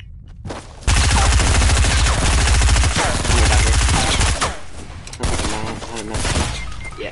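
Rapid, loud gunfire bursts out in a Fortnite solo match, long rattling volleys with brief pauses between them and a voice briefly heard over the shooting.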